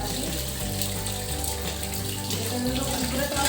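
Tap water running hard into a vessel while mackerel pieces are washed by hand, a steady loud gushing stream that continues unbroken with faint clinks and splashes within it.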